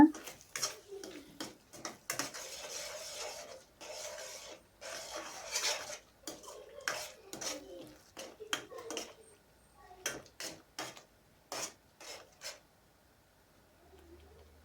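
Spoon scraping and stirring egg curry masala with chilli powder, coriander powder and salt in a pan, producing a run of short rasping scrapes in irregular bursts, close and moderately loud with no talking.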